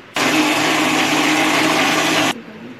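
A kitchen blender runs loudly and steadily for about two seconds, mixing frozen banana with cocoa powder for chocolate ice cream, starting and stopping abruptly with no talking.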